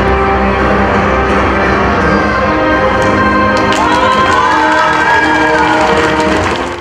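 An audience applauds at a children's circus competition in Anapa, loud continuous clapping and crowd noise mixed with a droning, music-like tonal background, with a burst of sharper claps partway through.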